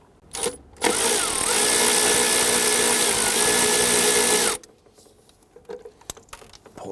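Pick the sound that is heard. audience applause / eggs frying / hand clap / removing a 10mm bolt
removing a 10mm bolt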